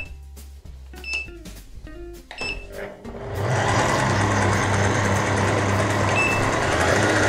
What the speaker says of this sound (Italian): Abbassiamo la macchina e la facciamo partire a velocità minima.